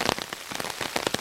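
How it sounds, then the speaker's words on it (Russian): Heavy warm summer rain pelts a lake surface and the surroundings, a close, dense crackling patter of drops over a continuous hiss, brief and without voices. "Капли бьют в поверхность озера."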